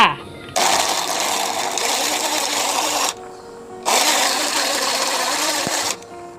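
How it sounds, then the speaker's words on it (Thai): Kitchen blender grinding pork, a loud whirring motor roaring in two long bursts separated by a brief pause, close up and running alone. "ใส่เครื่องปั่นเลยจ้า"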